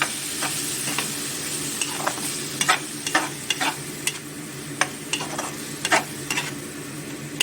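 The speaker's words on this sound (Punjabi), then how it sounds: "ਅਸੀਂ ਮਸਾਲੇ ਦੇ ਵਿੱਚ ਮਲਾਈ ਨੂੰ ਭੁੰਨਾਂਗੇ" Malai (cream) roasting in a spiced masala in a pan, with a steady sizzle and repeated spatula scrapes and knocks against the pan at an irregular rhythm, close and clear, no talking.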